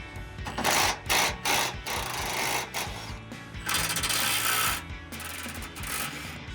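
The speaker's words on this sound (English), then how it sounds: "we're gonna loosen this bolt before we take it out, and we're gonna also loosen this one" A hand wrench loosens bolts on the rear shock of a Ford F-150, making close, continuous ratcheting clicks in repeated bursts with brief pauses between strokes.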